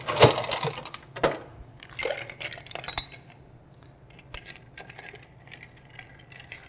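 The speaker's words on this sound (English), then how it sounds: "And then we're going to add ice and stir." Rye whiskey and ice being stirred for an Old Fashioned: ice rattles and clinks against glass with a bar spoon, a dense cluster at first, then a lighter, steady tinkling, close and continuous.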